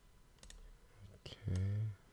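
Light clicks of computer keys being pressed, a few soft taps spread across the moment, followed by a brief spoken sound close to the microphone.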